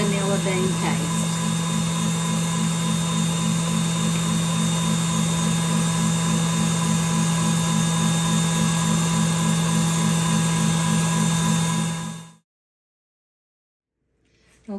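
Electric mixer whisking meringue for a pavlova toward stiff peaks, a loud steady motor whir with a rhythmic beating pulse running continuously for about twelve seconds, then cutting off abruptly into silence.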